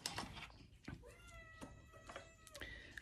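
Several house cats meow in the morning, a string of clear, rising meows from nearby that come one after another over about three seconds, with no talk.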